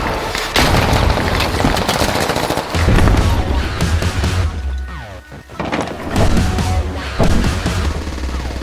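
Intense gunfire in the tactical shooter Squad: dense automatic bursts and heavy booming impacts fill the whole stretch, loud and continuous with brief lulls, no talking over it.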